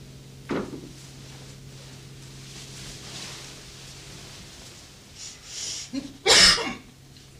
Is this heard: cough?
yes